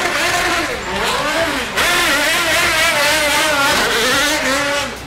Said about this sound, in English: we'll just let you see and, more importantly, hear what this car can do.